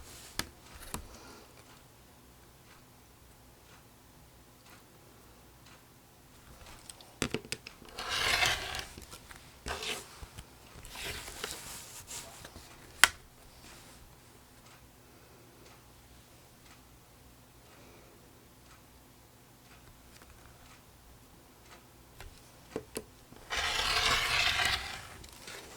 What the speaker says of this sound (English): you can use your rotary blade to trim that off